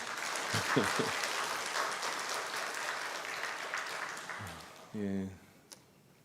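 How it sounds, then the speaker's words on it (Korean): Congregation applause for the choir during a Sunday church service, a soft continuous spread of clapping, with a voice briefly speaking over it near the end. "우리 성가대에게 힘찬 격려의 박수를 보내주셔서 감사하고"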